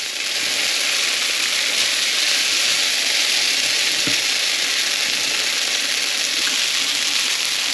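Rice noodles go into a hot pan with garlic and sizzle loudly and steadily, a constant hiss of frying with a soft bump partway through.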